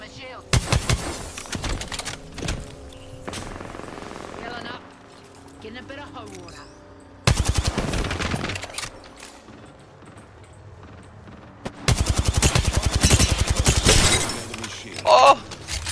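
Bursts of Apex Legends gunfire in a match, dense rapid shots clustered in three loud stretches with quieter gaps between, mixed with game effects and a voice talking.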